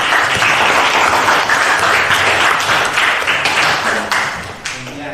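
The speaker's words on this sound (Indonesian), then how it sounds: "Oke, tepuk tangan." Classroom applause from students at a school event, loud and dense clapping that holds steady before thinning out near the end, with no voices over it.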